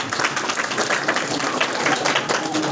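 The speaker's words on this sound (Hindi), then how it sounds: "सब ताली बजा जरा लड़की के लिए।" A congregation at a church sermon claps together for a girl, dense steady applause filling the room at moderate loudness with no talk over it.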